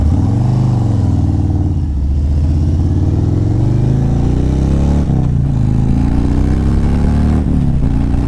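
Motorcycle engine revving loudly at a rally, close by and continuous, with the pitch rising and falling through several throttle swells over a steady rumbling base.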